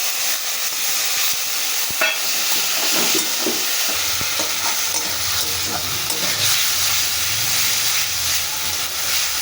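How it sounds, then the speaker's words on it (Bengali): Bengali spice masala with chopped tomato, salt and turmeric frying in a pan, a loud constant sizzle and hiss with stirring scrapes throughout. "মশলাটা আমি খুব ভালো করে কষিয়ে নিয়েছি"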